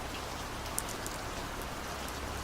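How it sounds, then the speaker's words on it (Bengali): Heavy rain pours steadily outside a Kolkata flat at night, a dense, even hiss of drops with a few sharper patters, constant throughout and with no voices. "ঝুমঝুম বৃষ্টি।"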